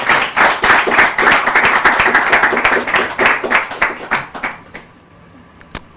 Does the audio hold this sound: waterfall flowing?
no